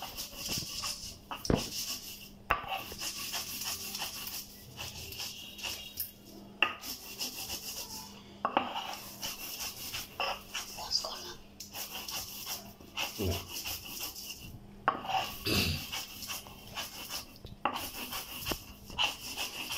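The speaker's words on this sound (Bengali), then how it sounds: "এখন এটাকে হালকা করে একটু বেটে নিতে হবে।" White mustard seeds, salt and green chilies are ground into a paste with a rhythmic rough rubbing and scraping, steady back-and-forth strokes with occasional knocks, close and continuous throughout.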